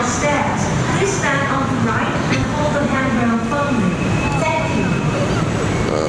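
BTS/MRT metro train arriving at a station, a steady loud rumble with rising and falling whine from the carriages filling the platform, while people talk nearby.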